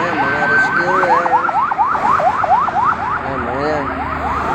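An ambulance siren in an escort wails in rapid repeating up-and-down sweeps, loud and close, over street rumble, with another siren tone holding steadier at the start.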